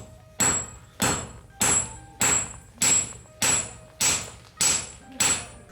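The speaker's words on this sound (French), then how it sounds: "il faut alterner les coups de marteau plus ou moins forts pour étaler un peu la billette" Hand hammer blows forging a billet of tamahagane iron at a Japanese smithy near Osaka, nine loud ringing strikes in an even rhythm about two-thirds of a second apart, close by, with no talking.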